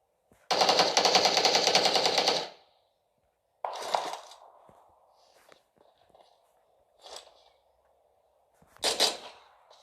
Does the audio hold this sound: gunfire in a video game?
yes